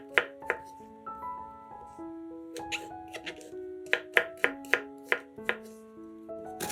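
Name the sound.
chopping mushrooms with knife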